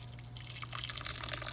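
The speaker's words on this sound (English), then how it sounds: "I boiled some water on my stove top, and I'm just going to pour it all in" Freshly boiled water from a tea kettle poured onto a dirty, stinky cloth, a faint, short trickling splash over a low steady hum.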